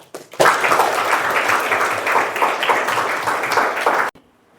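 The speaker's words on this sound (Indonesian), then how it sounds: "Kasih tepuk tangan untuk Sakia" A classroom of students claps together for a few seconds, a brisk burst of applause that starts suddenly and cuts off abruptly.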